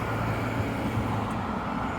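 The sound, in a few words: city street sounds with passing traffic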